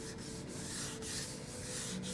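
Sandpaper rubbing on a silver Windy U Master 893 lure, a soft, steady back-and-forth scratch in short, regular strokes, quiet and close with no talking.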